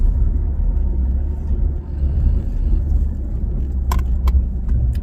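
A 2024 Nissan Frontier with a custom equal length exhaust drives along, its low exhaust rumble and road noise droning steadily from inside the cab, with a couple of light rattles near the end.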